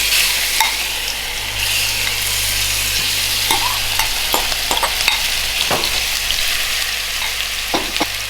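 Beef stir-frying in a hot, well-used non-stick pan, with a steady loud sizzle and occasional scraping clicks of a utensil stirring the meat, close up and continuous, no talking.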